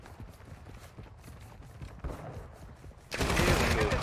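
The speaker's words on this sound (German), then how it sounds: "ich werde beschossen!" Gunfire in the Call of Duty Modern Warfare II video game, sparse distant shots through the first three seconds, then a loud dense burst of sustained fire at the end.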